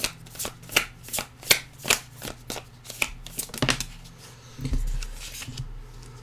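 Tarot cards are shuffled with a rhythmic series of crisp riffling snaps, then slide and tap as cards are drawn, close and fairly loud with no talking.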